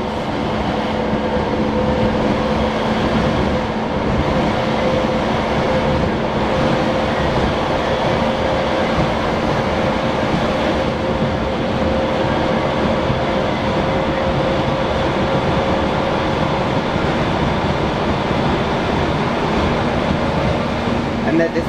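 A passenger train running on rails near Rochester, passing through the Higham and Strood tunnels, gives off a continuous loud rumble and rattle of wheels, steady and close. A voice speaks over the noise.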